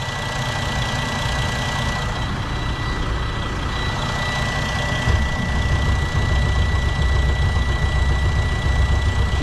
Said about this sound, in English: We're going to turn it on and then see if it'll crank over.